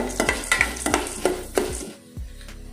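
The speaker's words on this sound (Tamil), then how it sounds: "நல்லா பொரிக்கட்டுங்க." Cumin seeds crackle and sizzle in hot oil, with a spoon stirring the pan in a steady rhythm of scrapes, close up and fairly loud.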